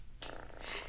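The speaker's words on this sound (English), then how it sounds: "Just listen to him purr." A house cat lying on a sofa purrs softly, a faint low rumbling that starts after a brief silence and continues in close, quiet pulses.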